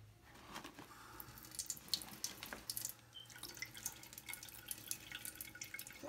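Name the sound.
water running from a tap while washing face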